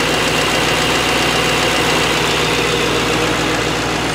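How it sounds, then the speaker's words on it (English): A Mercedes-AMG G63 Edition 1 with a hand-built 4-liter V8 bi-turbo engine idling close by, a loud, steady rumble with an even, slightly knocking throb. "V8 bi-turbo, 585 horsepower, as I said."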